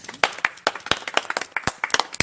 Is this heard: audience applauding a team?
yes